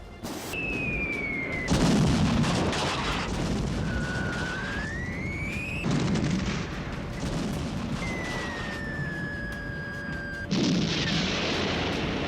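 Bombs and artillery fire in the war in Ukraine, heavy booms repeating every few seconds over a continuous rumble, with rising and falling siren-like whines between the blasts.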